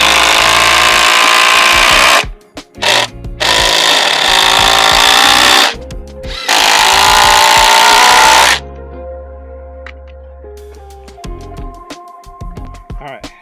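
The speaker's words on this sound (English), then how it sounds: "let's see if we can get some more screws in this to cinch it up a little bit better" Power drill driving screws into a wooden deck gate: three long, loud whirring runs broken by short pauses, then the motor stops and only faint background sounds remain.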